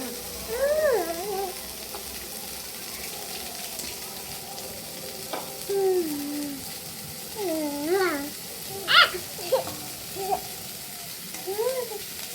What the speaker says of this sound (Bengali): চিংড়ি মাছগুলো অল্পই ভাজবো, খুব বেশি ভাজার দরকার নেই